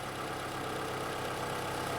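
A Toyota RAV4 engine idles steadily under the open hood after being jump-started with a battery charger, a continuous low hum with a faint even pulse and no talk.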